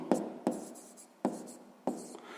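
A pen writes an answer by hand on paper, four quick scratchy strokes in an uneven rhythm, close and fairly quiet, with no one speaking.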